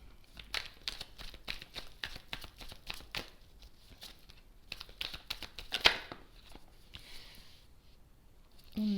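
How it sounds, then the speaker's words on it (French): Tarot cards being handled and drawn: rapid papery flicks and shuffling snaps in an irregular burst, easing into softer rustles and slides of cards, close and fairly quiet. "Allez, je prends 3 cartes pour vous"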